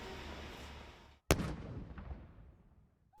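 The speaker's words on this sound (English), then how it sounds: "Australia honoured the Queen with a 96-gun salute outside Parliament in Canberra." A single sharp artillery blast from a ceremonial gun salute outside Parliament House in Canberra cracks out over faint background noise, its boom echoing and rolling away over a couple of seconds.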